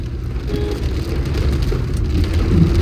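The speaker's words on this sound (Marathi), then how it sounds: "पाऊस बघा, पाऊस मित्रांनो एक नंबर ना." Rain falls steadily at a hill station near Mahabaleshwar, a dense, even hiss of drops on surfaces with a low rumble underneath, continuous and fairly loud with no voices.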